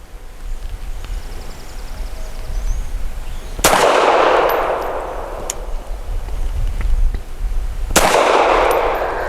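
Two sharp, loud FN Browning BDA 380 pistol shots with PMC bronze ammo fired at an outdoor range, a few seconds apart, each a sudden crack with a decaying tail over faint background noise.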